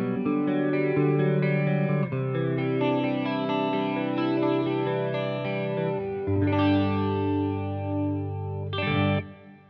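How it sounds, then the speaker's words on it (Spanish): An electric guitar runs through a Walrus Polychrome flanger pedal turned down to a chorus-like texture. Sustained chords shimmer and swirl with gentle modulation, and the last notes ring out and cut off near the end. "en esta ocasión he decidido bajarlo un poquito para tener una textura más de chorus"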